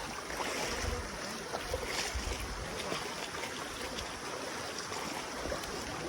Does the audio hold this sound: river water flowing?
yes